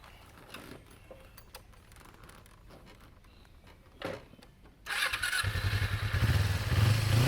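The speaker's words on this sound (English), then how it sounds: "So this is my 2007 Kawasaki Ninja 250, the EX250R" 2007 Kawasaki Ninja 250 EX250R motorcycle, with quiet clicks and handling noises first, then the engine starting near the five-second mark and settling into a loud, close, steady idle that grows slightly fuller.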